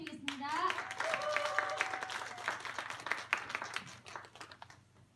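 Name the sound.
audience applause welcoming a speaker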